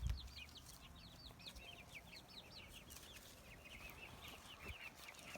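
Chickens clucking outdoors around a yard, a series of soft, repeated high clucks spread across the whole stretch, fairly faint over a low background rumble.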